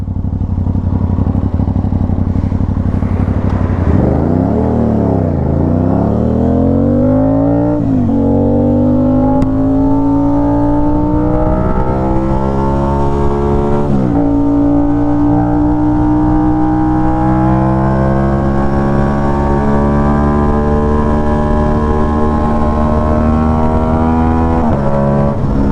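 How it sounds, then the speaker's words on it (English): A middleweight sportbike engine pulls hard through the gears toward 143 mph, its rising whine dipping briefly at each upshift before climbing again, loud, close and continuous throughout with no talk. "the bike still hasn't redlined at 6th gear yet. So I think hitting 143 and still climbing"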